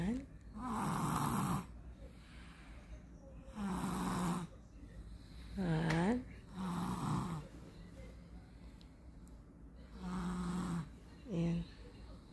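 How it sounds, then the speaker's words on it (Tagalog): Loud, rhythmic snoring nearby, six drawn-out rasping breaths spaced a couple of seconds apart with quiet gaps between. "Grabing hilik niya, guys,"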